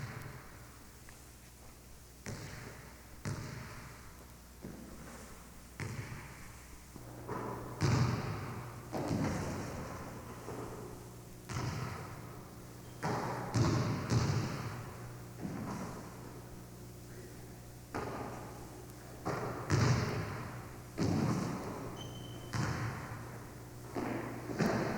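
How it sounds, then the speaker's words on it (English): Basketball bounced firmly on a gym floor during low post drills, a series of separate thuds spaced every few seconds with echoing room sound between them. "The player should bounce the ball firmly in the center of the body and take it to the upper pocket before shooting."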